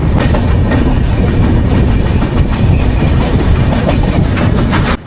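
An express train crossing the Netravati bridge near Mangalore rumbles steadily with rhythmic clickety-clack of wheels on rails, loud and close throughout, cutting off abruptly near the end.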